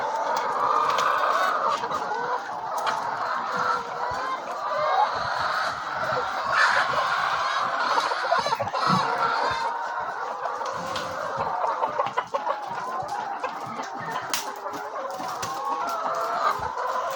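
Several chickens clucking continuously with roosters calling among them, a busy, close flock sound filling the whole stretch, heard while collecting eggs.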